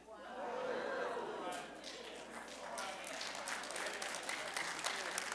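A church congregation claps in a broad wash of applause that swells in after a murmur of voices and carries on steadily, moderately distant in a large room.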